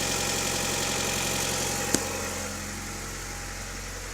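A Honda Odyssey RA1 idles through a 2.5-inch exhaust with a high-flow racing muffler, a steady low rumble held close and loud, broken by one brief click near the middle.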